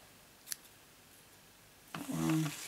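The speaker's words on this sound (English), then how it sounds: "Ribbon scissors. Here we are." Ribbon scissors snip once sharply, then after a pause make a louder crisp cutting sound as they slice ribbon for card making, close by and quiet.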